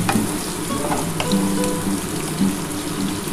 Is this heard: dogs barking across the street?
no